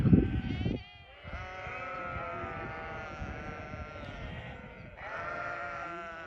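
A flock of sheep bleats repeatedly as it approaches salt rocks in the Nurhak mountains, with drawn-out overlapping calls at close range and a loud, harsh cry at the start.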